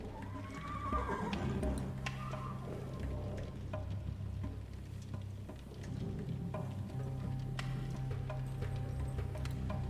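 Horses neigh and whinny inside a stable in the Secret Files 3 adventure game, loud repeated calls over a steady low hum with soft clip-clop and light rain-like patter, no voices.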